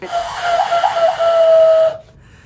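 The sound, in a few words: person imitating an owl with a whistle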